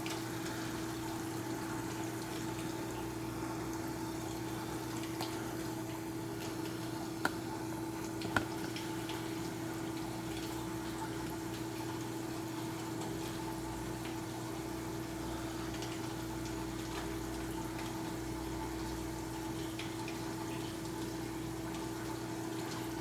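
Aquarium sump drain system running, a steady low hum of flowing water with faint trickling and a couple of small ticks, no voices.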